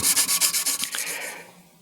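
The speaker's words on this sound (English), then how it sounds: "the soft tissue of your finger will conform to the shape of the fret as you're sanding it" Guitar frets being sanded by hand, with abrasive pressed under the fingertips against the fret tops: a rapid series of close, rhythmic scratchy rubbing strokes, about eight in a row, that fade off toward the end with no talking.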